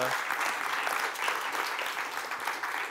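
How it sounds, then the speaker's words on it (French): Dense audience applause for a speaker at a conference event, a continuous, fairly loud crackle of many hands clapping without pause, with no voices standing out. "On peut applaudir Jean-Thomas"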